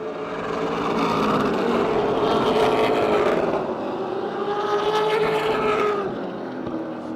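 Race cars roar around the Motordrome Speedway oval during a 2010 Triple Crown feature event, with a loud, continuous engine drone that swells and fades as the pack passes.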